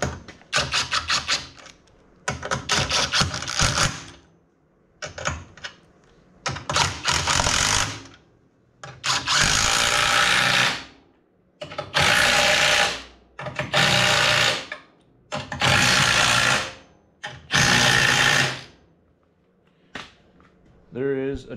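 Bolts on the rear cage of a Can-Am Maverick are cinched down with a power tool in six loud, rapid rattling bursts, each a couple of seconds long, separated by brief pauses, close up and with no talking over them.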